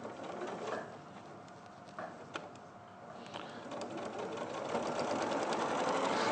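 Pedal-operated sewing machine running during quilting, a fast steady mechanical whir that builds and grows louder toward the end, with no voices.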